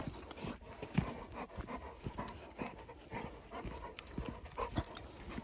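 Three dogs walk along a path, their claws and paws clicking and scuffing steadily on the ground, with quick panting breaths over light outdoor background noise.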